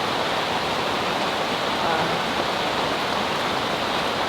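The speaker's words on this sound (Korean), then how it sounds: "확실히 텐트 안에서 듣는 빗소리가 제일 좋은 것 같습니다" Steady rain patters on a mesh camping tent at a valley campsite in summer, heard from inside as an even, dense hiss with no break.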